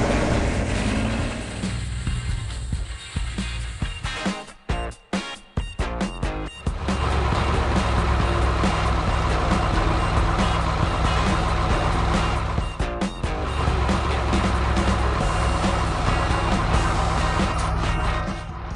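Cartoon cargo trucks work busily in a sunny warehouse yard. Dense, steady engine and machinery noise runs throughout, with a few short gaps early on, no talk.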